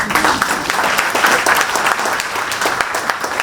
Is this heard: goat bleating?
no